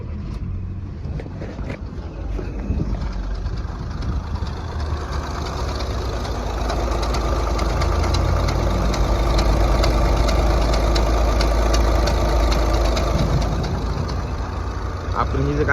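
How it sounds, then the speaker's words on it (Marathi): An idling Skoda Rapid with automatic transmission and a worn flywheel gives a continuous low rumble with a rattling, irregular undertone, close and steady throughout, with some wind-like noise. "इथे काय होतं, फाविलचा आवाज येत आहे."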